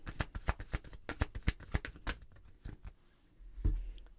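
Tarot cards shuffled by hand in a rapid burst of crisp riffling slaps for about two seconds, then a few looser card flicks and a soft thump of the deck being set down, close and clear with no talking.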